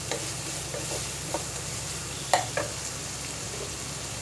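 Onions fry for bhindi masala in a pan, giving a soft steady sizzle, with a few light clicks and scrapes of stirring and one sharper clink midway.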